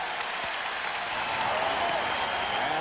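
A 1994 basketball arena crowd reacting to LaSalle Thompson, loud sustained applause and crowd noise with voices mixed in, swelling slightly toward the end.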